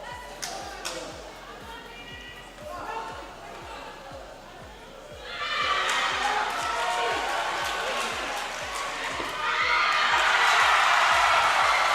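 At a weightlifting competition, a crowd swells from murmuring into a loud roar of cheers, rising in two surges, with a rhythmic thumping underneath throughout.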